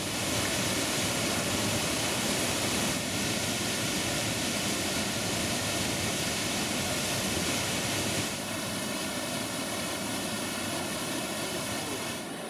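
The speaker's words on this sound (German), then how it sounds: "Schon von Weitem hört man das Donnern des herabstürzenden Wassers und sieht die aufsteigende Gischt." A 95-metre waterfall thunders in a mountain gorge as a dense, steady, loud roar of falling water that fills the whole span without pause.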